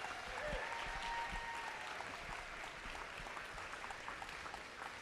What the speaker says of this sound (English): So give them a huge round of applause for doing all that they do.